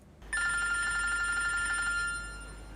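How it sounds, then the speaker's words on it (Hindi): A mobile phone ringing in a home, a bright electronic ringtone starting abruptly and repeating its warbling pattern for about two seconds before fading, close and clear over a low hum. "तुम्हारा फोन बज रहा है"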